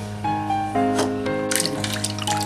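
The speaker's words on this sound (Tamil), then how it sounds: "இதில் உப்பு போட்டதை இப்போ என்ன செய்கிறாங்கன்னா உப்பு போட்டு கழுவுறாங்க" Water splashes and gushes from a tap while Kelagan fish is washed with salt for a fish curry. The running water is close and fairly loud, with brief sloshing bursts of handling midway, and there is no talk.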